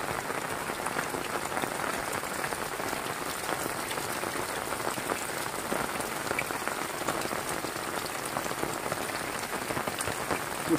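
Super heavy rain pours steadily and densely onto surfaces, a loud, constant hiss and patter that goes on without a break, with no voices.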